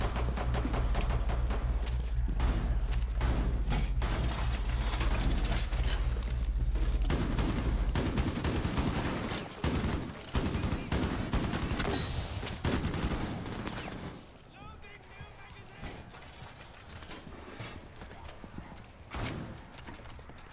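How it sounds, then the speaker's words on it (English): Rapid gunfire fills a Rainbow Six Siege Outbreak mode match, dense, close bursts rattling almost without pause, then thinning into scattered shots, with voices talking now and then. "Don't you shoot over me like that."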